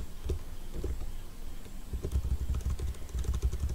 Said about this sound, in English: While I am typing